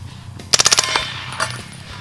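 D3LLC D3-9SD 9mm carbine fired at a steel plate on an outdoor range, a rapid string of about six sharp loud shots in quick succession, then a fainter single report trailing off.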